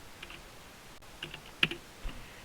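Login details typed on a computer keyboard: a few sparse, quiet keystrokes and clicks, close by and with no talking.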